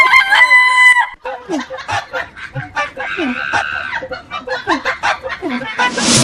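Chickens cluck and squawk in quick, agitated bursts close by, with a rooster-like crow at the start and honking, goose-like cries mixed in, loud and repeated throughout.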